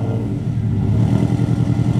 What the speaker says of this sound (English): So let's go ahead and turn on the car and just do some science.